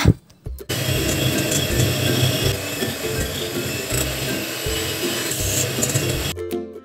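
An electric hand mixer beats butter and sugar for a butter sponge cake, giving a steady whirring drone that runs almost unbroken and starts and stops abruptly at the ends.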